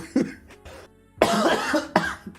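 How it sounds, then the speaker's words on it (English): A person coughs several times in quick, harsh bursts close to the microphone, with short pauses between. "I'm so sorry for coughing."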